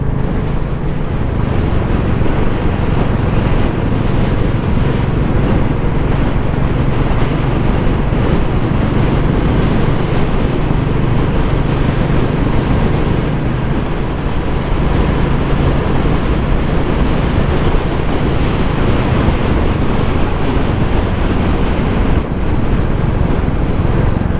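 Steady, broad roar of sea waves and wind, continuous and loud throughout, with no voices.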